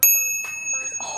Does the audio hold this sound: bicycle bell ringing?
yes